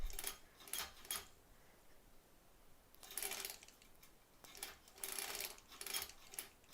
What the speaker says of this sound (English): Let's do our little back stitching again.